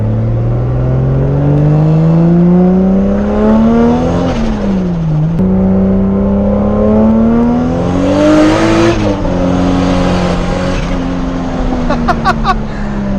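A single-turbo 550hp Toyota Supra straight-six pulls hard, its engine note climbing loud and close through the gears, dipping at each shift, then flaring as the tires lose traction in third gear.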